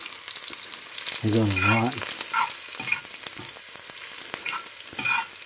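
Fiddleheads sautéing in a pan inside a woodstove, a close, steady sizzle with stirring scrapes, while a person briefly speaks over it.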